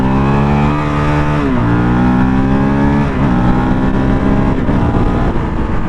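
Honda CRF450 dual-sport motorcycle engine revving hard and shifting up through the gears, a loud steady roar whose pitch climbs, drops at each shift near 1.5 and 3 seconds, then climbs again, recorded close with no talk.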